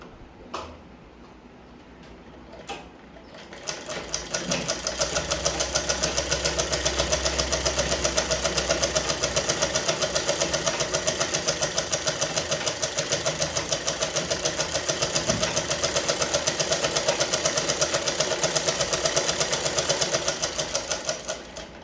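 A sewing machine stitches a pillow cover, starting after a couple of clicks and then running in a fast, steady mechanical rattle for a long stretch, close and loud, with no talking.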